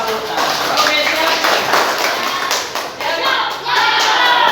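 A class of pupils claps their hands together in a classroom on a teacher's cue. The sharp, uneven bursts of clapping sound close and loud, with voices mixed in.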